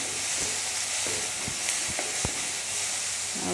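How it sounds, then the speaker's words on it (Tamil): Onion and spices sautéing for a drumstick curry, a loud continuous sizzle and hiss with several soft stirring scrapes against the pan, close up. "பார்த்திங்கன்னா இப்படி வதக்கிக்கிடுவோம்"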